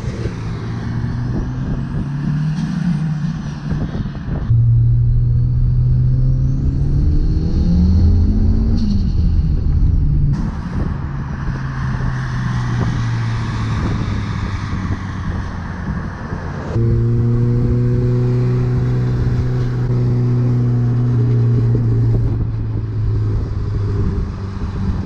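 A Mitsubishi VR4 with a 4G63 turbo engine and free-flowing exhaust revs repeatedly, its loud droning note rising and falling in long pulls with gear-like steps, near and alone.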